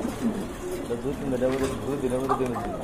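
A large pair of pigeons, including a female, coo in soft low repeated phrases close by, with people talking over them throughout.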